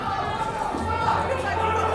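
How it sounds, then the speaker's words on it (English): Crowd at an outdoor bouldering finals in Freshwater, cheering and murmuring steadily to urge a climber back onto the wall, a continuous dense chatter of many voices with no clear peaks. "Crowd cheering Malo to get back on again"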